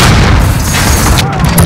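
A frag grenade detonates in Call of Duty Modern Warfare 2019, a loud, close boom with rumbling low end that fills the short moment, mixed with scattered gunfire and shouting teammates.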